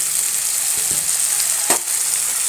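Onions sizzle in hot oil as chopped tomato pieces are added for a drumstick curry, a steady close frying hiss with a few soft stirring knocks and a brief scrape.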